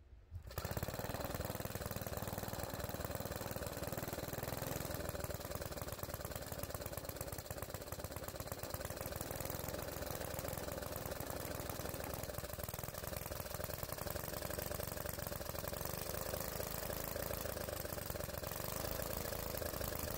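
Small engine of a 1950 Toro Sportlawn reel mower starts up and runs steadily for about twenty seconds with a rapid, even putter and mechanical clatter, loud and close with no voices.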